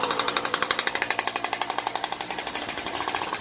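A small two-stroke engine on a motorized bicycle buzzes at close range with a rapid, steady pulsing rattle, running continuously without any voices.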